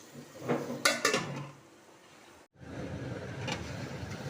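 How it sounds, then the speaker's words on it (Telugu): Chana dal is stirred in a pan, with a few metallic scrapes and clanks of the spoon up front, then a softer steady rustle of cooking continuing after a brief gap. "శనగపప్పు వేసుకున్నాం కదా ఫ్రెండ్స్, దీన్ని ఈ విధంగా కలుపుకుంటూ ఉండాలన్నమాట"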